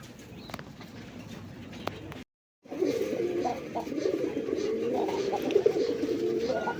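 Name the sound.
pigeons cooing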